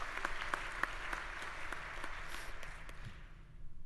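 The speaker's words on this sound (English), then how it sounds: "Can you give her a round of applause?" An audience claps for a graduate receiving a bachelor's degree in emergency and disaster management at a spring commencement ceremony; a few seconds of moderate, fairly distant clapping that thins out and fades at the end.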